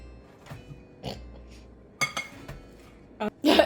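A spoon scraping and clinking against a bowl while mixing apple pie filling, a few sparse knocks and then louder clattering bursts, with people talking at intervals.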